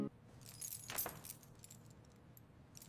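A bunch of keys jangles with a few bright metallic clinks and rattles, close by and fairly quiet, then settles into near silence with no speech.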